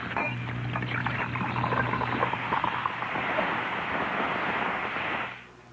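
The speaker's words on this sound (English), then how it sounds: "It fizzes and fizzes and fizzes all through your drink." Saratoga Vichy mineral water fizzing in a drink, a steady close hiss of crackling bubbles that holds for about five seconds and then fades away.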